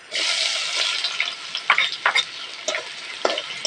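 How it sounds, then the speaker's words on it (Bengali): A bowl of onions dropped into hot mustard oil with cardamom, cinnamon and cloves, hissing loudly then stirred with repeated clacking spoon scrapes over the ongoing sizzle, no speech. "এবার এর মধ্যে এক বাটি পেঁয়াজ দিয়ে দেবো।"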